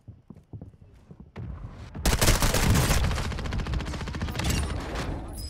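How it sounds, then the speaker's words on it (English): Explosive mortar strike blasts hammer a rooftop in a shooter video game, with scattered sharp impacts building into a loud, sustained barrage of rapid bursts and rumbling detonations. "They're putting mortar strike down the roof."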